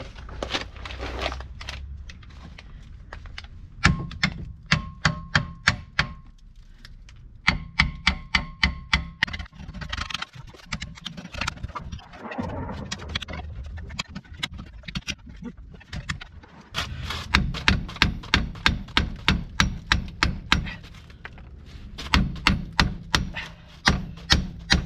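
Bolts being tightened on a Peugeot 205 GTI 1.9 give long runs of rapid, evenly spaced metallic clicks, loud and close, broken by short pauses and a brief scraping stretch midway.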